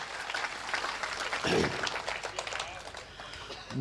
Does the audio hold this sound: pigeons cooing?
no